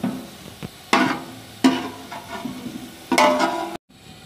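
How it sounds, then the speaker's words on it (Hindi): Chicken pieces are dropped into a pot of onions frying in oil for biryani, giving several bursts of loud sizzling and stirring scrapes that swell and fade, before the sound cuts off abruptly. "अब इसमें हम चिकन डाल लेते हैं।"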